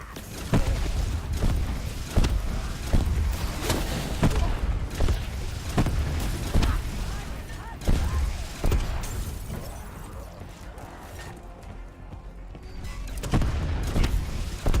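A rocket launcher fires repeatedly at an ice block in the Voyage of Despair zombies map, loud booming blasts and shattering impacts at a steady rhythm, dense with game noise.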